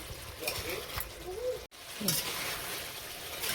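Vegetables with cauliflower frying with spices in a pan, a faint steady sizzle with soft scraping stirs close by, broken by a momentary dropout, while a person talks over it.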